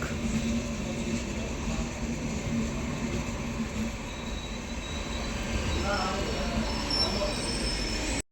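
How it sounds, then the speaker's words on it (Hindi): The August Kranti Rajdhani Express, running as a Tejas Rajdhani, rolls in at night with a loud, continuous rumble of wheels and carriages, faint high squealing tones threaded through, and a brief clattering patch near the end. "सामने से आ चुकी है 12/954 अगस्त क्रांति राजधानी एक्सप्रेस"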